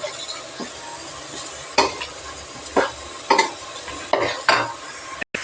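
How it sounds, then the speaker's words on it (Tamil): Spoon stirring chili powder masala in a frying pan for a Tamil chicken gravy, soft sizzling under a few scraping strokes and light metal clinks against the pan, close and alone. "நல்லா கலந்து விட்டுக்கலாம்."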